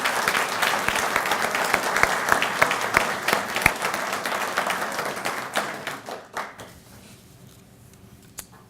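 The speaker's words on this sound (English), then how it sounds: "let's give this group a round of applause" Sustained audience applause fills a hall at a Williams-Sonoma Sutter Street manufacturing announcement, many hands clapping loudly and steadily before thinning out and fading to a few scattered claps at the end.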